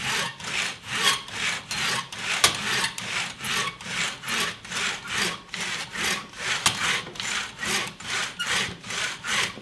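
A hand saw cuts through a piece of wood for a picture frame in a long run of steady, regular strokes, each a rasping push and pull, close and clear with no voices.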